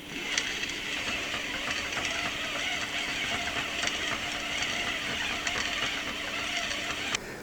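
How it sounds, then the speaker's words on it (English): A fishing reel on a KastKing V10LS rod rack spooling station winds line off a spool, a steady close whirring with a faint rhythmic clicking throughout, stopping near the end. "Now let's hook this to the rod and reel it on."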